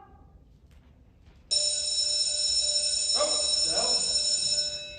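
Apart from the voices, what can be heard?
school bell ringing for recess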